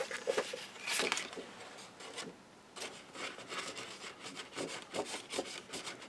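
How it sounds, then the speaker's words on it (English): Paper pages of a 6 x 6 craft album being burnished flat with firm rubbing strokes, a series of close, dry scraping swipes in irregular bursts with brief pauses between them. "Burnish them both down."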